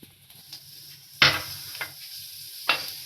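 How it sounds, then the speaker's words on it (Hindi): Whole spices, cardamom, cloves, black peppercorns, cumin and cinnamon, dropped into hot ghee in a pan, a faint crackling sizzle punctuated by three sharp bursts as more spice hits the fat, close and without talking. "घी गरम हो गया, अब हम इसमें कुछ खड़े मसाले डालेंगे।"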